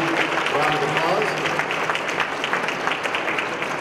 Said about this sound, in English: let's give Amy St. Peter a huge round of applause